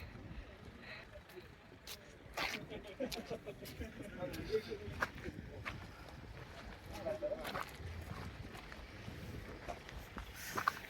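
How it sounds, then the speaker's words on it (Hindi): Cold wind gusts across the snowy Chang La pass in Ladakh, rushing and buffeting the microphone steadily throughout, with faint footsteps and distant voices mixed beneath. "ठंडी हवा चल रही है।"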